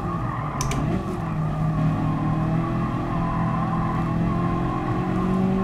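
Race car engine in Gran Turismo Sport, a light Japanese class car droning steadily at high revs with pitch rising through the gears and a brief tyre squeal early on, continuous and close.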